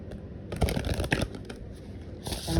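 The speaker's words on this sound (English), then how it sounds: "one more shuffle" A deck of playing cards being shuffled close up, a few quick riffling bursts with soft shuffles between them, quiet and with no talking.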